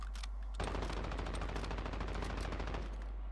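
Gunfire in the video game Warzone: a rapid, dense burst of automatic shots lasting a few seconds after a brief quieter start, fairly loud and steady, with no talk over it.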